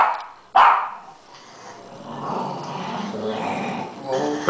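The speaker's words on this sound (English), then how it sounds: "Turns into a Rottweiler in like a couple minutes." A dog growls and barks close by, one sharp bark followed by a sustained rumbling growl rising and falling, then a final bark at the end.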